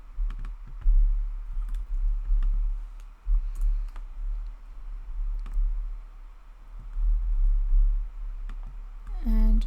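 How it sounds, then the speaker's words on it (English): Typing an address on a computer keyboard: scattered quick key clicks in short irregular bursts, fairly close, over a low background hum, with a brief louder clatter at the end. "And just type in all of our address."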